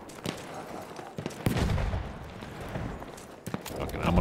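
Gunfire in the World War I shooter Battlefield 1, with scattered sharp shots and short bursts cracking against a dense, noisy battlefield rumble, some near and some farther off.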